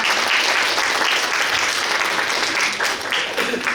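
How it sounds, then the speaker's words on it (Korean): A loud, sustained round of clapping from the audience at a Suncheon city eco-transport policy talk show, a dense, even wash of hands that tapers slightly toward the end. "박수 부탁드립니다."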